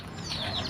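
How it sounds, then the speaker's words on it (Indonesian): Village chickens kept around houses in a rural kampung in Soppeng, a faint clucking call over quiet outdoor background. "kalau di kampung itu banyak yang memelihara ayam"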